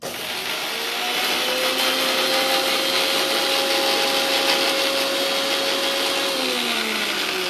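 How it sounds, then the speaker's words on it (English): A kitchen blender whirs loudly and continuously while grinding chutney, starting up in the first second and then holding a steady motor whine with a pitch that drops slightly near the end. "blender makes a little sound."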